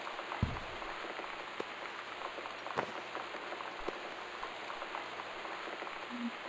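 Steady rain falling on surfaces around a home, a dense even patter with a few scattered louder drops and faint knocks, no voices.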